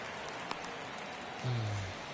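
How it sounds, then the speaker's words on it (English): Rain falls during a baseball game in MLB The Show 23, a steady soft hiss across the stadium. A low rumble joins briefly near the end. "It's starting to rain in the game."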